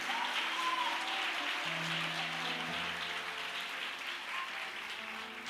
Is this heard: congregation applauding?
yes